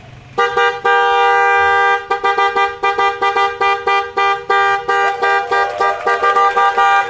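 A car horn honks repeatedly in short bursts, loud and close, with a steady rhythm after one longer opening blast.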